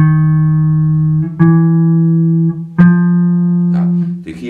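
Electric guitar picks slow single notes in a deliberate alternate-picking exercise, each sustained tone ringing clearly before the next, four or five evenly spaced notes close and loud with no talk.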